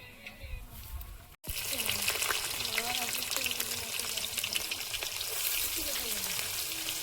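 Five-spice seeds tempering in hot oil for a big pond-fish curry, with a sharp sizzle that bursts in after a brief pause and then crackles loudly and steadily, with faint voices underneath.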